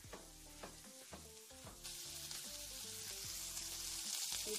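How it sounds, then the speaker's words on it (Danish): Bacon and bread croutons fry in a pan with a dense, steady sizzle that grows louder and hissier partway through. Soft crackles and small knocks sit underneath, with no talking. "Nu steger det bare rigtig godt."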